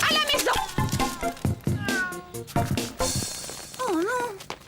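Cats meowing close by, several rising and falling cries in quick succession, with a long wavering meow near the end and a faint voice briefly mixed in.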